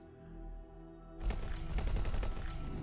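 Ship weapons in the space game X4 Foundations open up in a sudden, continuous stream of rapid shots over a low engine hum, loud and steady until the end.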